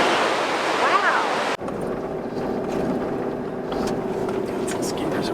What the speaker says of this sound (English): let me show you this raging river